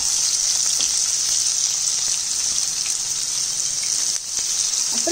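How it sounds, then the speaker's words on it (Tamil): Chopped onions go into hot oil with browned fennel seeds for a mutton liver gravy, giving a steady, close, crackling sizzle with a brief dip near the end. "நெக்ஸ்ட் நம்ம வந்து வெட்டி வச்சிருக்க வெங்காயம் ஆட் பண்றோம்."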